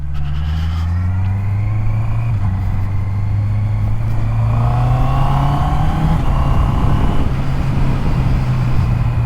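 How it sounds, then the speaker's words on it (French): A Honda CB650R E-Clutch motorcycle rides with its engine loud and close, rising in pitch as it accelerates through the gears, with steady wind rush building underneath and no speech. "Cette magnifique CB 650R e-clutch."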